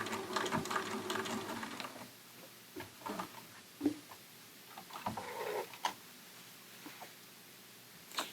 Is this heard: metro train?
no